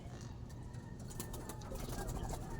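Soft, low cooing from birds nearby, repeating under a steady background hum, faint and calm.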